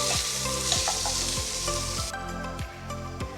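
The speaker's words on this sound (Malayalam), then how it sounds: "ഇതൊന്ന് സവാളയൊക്കെ നല്ലോണം ഒന്ന് വഴന്നിട്ടുണ്ട്" Onions sizzle and fry in a pan for momos filling, a steady crackling hiss close up, with a few scraping stirs of a utensil and no talk.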